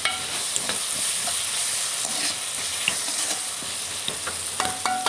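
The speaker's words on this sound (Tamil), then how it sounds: "பெரிய வெங்காயம் வெட்டி வச்சு நான் பச்சை மிளகாயும் அதை நல்லா போட்டு நல்லா பொன்னிறமாக வதங்கி வரும்போது" Sliced big onions and green chilies fry and stir in a pan while cooking stingray, giving a steady close sizzle with scattered scrapes and clicks of stirring throughout.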